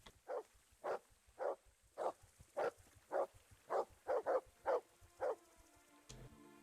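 A dog in Kingdom Come: Deliverance barks about a dozen times in a steady, evenly spaced series, moderately loud, followed by a short thud at the end.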